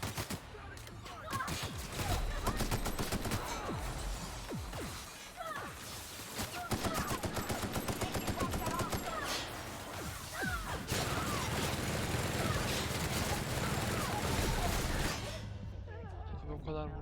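Dense, sustained gunfire from The Outer Worlds, rapid bursts and volleys of shots filling most of the stretch, loud and continuous, with someone talking over parts of it.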